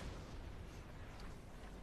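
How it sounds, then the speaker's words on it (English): Cannon fire in a Napoleon Total War battle: a dense, continuous low rumble of booming artillery with heavy low-end energy and scattered bursts, steady and loud throughout, with no talking. "We are firing upon them, and cannons are doing lots of damage."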